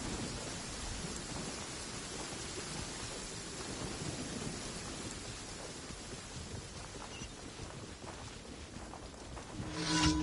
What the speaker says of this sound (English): Downpour certainly rouses the spirit.